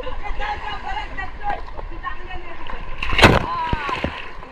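A swimmer's backflip plunge into a village stream in the Konkan countryside makes one sharp splash near the three-second mark, with voices chattering around it.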